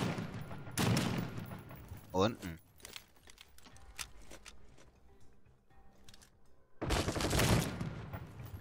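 Bursts of rapid gunfire crackle in the game The Front, clustered near the start and again near the end, with a voice speaking briefly between them.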